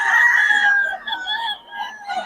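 A gamecock crows once in a long, bright, drawn-out call, close and loud, followed by a few shorter clucking notes from fowl at a rooster market.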